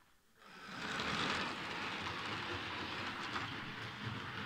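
A PIKO NOHAB diesel model locomotive with rubber-band drive running on a model track, starting up into a steady close whirring rattle with fine rapid clicking that holds on without pause.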